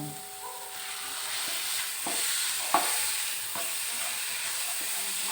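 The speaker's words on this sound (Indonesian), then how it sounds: "Setelah mendayu, ini sudah wangi, kita masukkan langsung daging." Meat tipped into fragrant fried onions for mini martabak telur filling, sizzling steadily in a hot pan while being stirred, with scraping strokes and a sharp clack near the middle, close and continuous with no voices.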